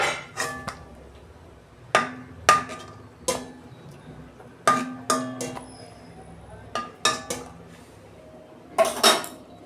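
A kadai set down on a home kitchen gas stove while cooking a bitter gourd dish: a series of sharp metallic clanks and clatters of cookware, spaced irregularly and heard close by.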